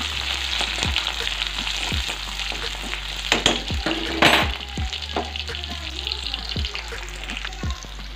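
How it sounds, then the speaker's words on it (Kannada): Onions frying in a pan give a steady, close sizzle, broken by the scrape and clatter of stirring; a few louder spatters rise midway. "ಇವಾಗ ಇದಕ್ಕೆ ಈರುಳ್ಳಿ ಹಾಕ್ಬೇಕು ಇದು ಚೆನ್ನಾಗಿ ಫ್ರೈ ಮಾಡ್ಕೋಬೇಕು"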